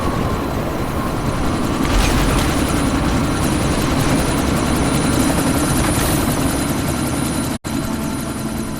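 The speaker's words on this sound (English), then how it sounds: "you need to disable that chopper" A helicopter in Deus Ex: Mankind Divided thrums loudly and steadily, its rotor and engine roar continuous through a sandstorm scene, with a brief dropout near the end and no speech.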